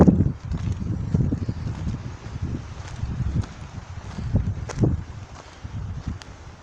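Gusty wind blows outdoors on the summit of Mont Sainte-Odile, a steady low buffeting rumble with rustling surges throughout, no voice over it.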